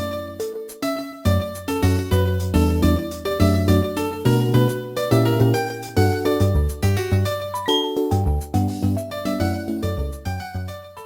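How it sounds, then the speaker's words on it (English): Upbeat Jubilife City theme from a Pokémon game plays as bright, steady instrumental music, with bouncy bass notes under chiming melodic lines and a regular rhythmic pulse throughout. "take the Jubilife City theme for example."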